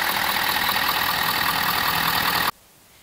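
A Ford F250 pickup's 6.7 liter V8 engine runs steadily with a loud, even, close-up rumble, then cuts off abruptly near the end, leaving quiet background.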